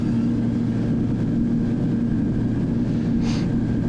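An RC model airplane at an RC club flies overhead, a steady, loud engine drone with a brief brighter swell toward the end, no voices.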